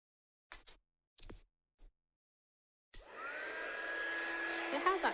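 A few quiet clicks and handling taps, then a heat gun starts up with a steady loud whirring blow, drying an inked handmade card made with an embossing folder.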